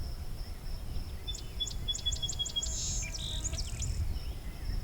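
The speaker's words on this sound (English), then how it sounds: "just picked up rose-breast grosbeak" A rose-breasted grosbeak sings outdoors: a quick run of repeated bright notes, then a denser warbled phrase, moderately distant over steady insect-filled background hiss.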